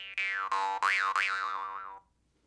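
A jaw harp being played, sounding as a twanging, boingy drone with a wobbling overtone melody in several plucked bursts over about two seconds, close and fairly loud, then fading to silence.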